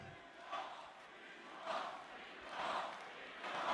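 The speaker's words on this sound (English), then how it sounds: "This crowd is insane." A large crowd at the Bitcoin 2024 conference cheers and chants in rising, rhythmic swells, distant and faint but filling the space.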